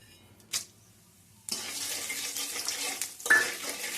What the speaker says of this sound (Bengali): হালকা একটু নেড়ে নেবো যতক্ষণ পর্যন্ত একটা হালকা স্মেল না আসছে আর লঙ্কাগুলো ভাজা না হয়ে যাচ্ছে